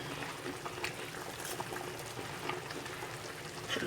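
Moringa leaves boil in salted water with turmeric, giving a quiet steady bubbling and gurgle with small pops throughout.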